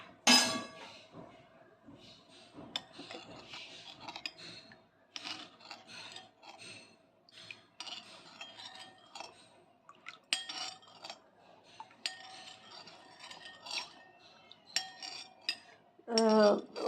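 Strawberry cake ingredients are mixed in a bowl, making repeated close scraping and rubbing strokes with occasional utensil clinks against the bowl, in irregular bursts.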